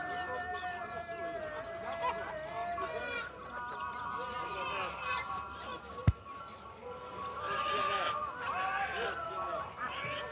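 Poultry clucking and honking fill a busy open-air bird market in Campina Grande, Paraíba, where turkeys and chickens are sold; calls overlap throughout alongside people talking and one sharp knock.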